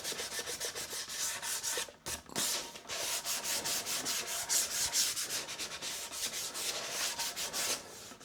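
Steady rhythmic hand sanding on a wooden Flying V guitar body's curved edges, rapid back-and-forth scratchy strokes with a brief pause near the start, close and continuous.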